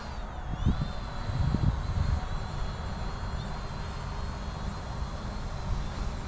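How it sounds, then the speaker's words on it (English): Motors of an Ameta S20 beginner quadcopter drone hum steadily in flight outdoors in light wind, a continuous whining buzz at moderate distance with a few low thumps near the start. "Start the motors, you put the sticks down and to the inside, it starts it up and now you're up."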